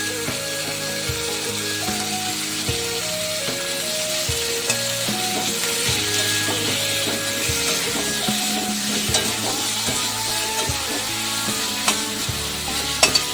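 A ginger, garlic, cumin and coriander spice paste fries in a pan for chicken biryani, with a steady close sizzle and repeated stirring scrapes throughout. Music plays underneath.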